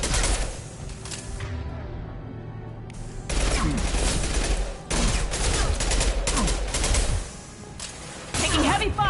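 Heavy rapid gunfire and blasts from a Mass Effect firefight, with dense bursts of automatic weapon fire filling nearly the whole stretch, a brief lull near the start, and faint voices mixed in.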